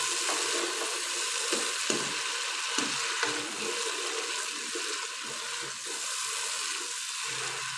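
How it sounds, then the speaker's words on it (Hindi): Sugar and a few spoons of water heat in a pot for degi mutanjan, giving a steady soft sizzling bubble with faint stirring scrapes throughout. "4 चम्मच मैंने पानी ऐड किया ताकि ये चीनी अच्छी तरह से मेल्ट हो जाए।"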